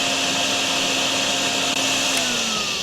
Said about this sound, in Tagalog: Tong buhaton ani i-vacuum mo na lang.